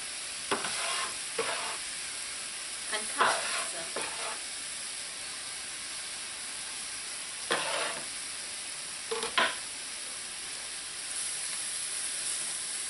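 Tomatoes and sweet peppers frying and being stirred in a pan for a Caribbean smoked herring dish, a constant close sizzle with several bursts of scraping and stirring at irregular intervals, and no talking.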